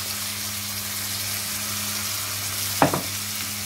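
Italian sausages and mushrooms browning in a pan give a steady, close frying sizzle, with a short clatter of stirring near the end.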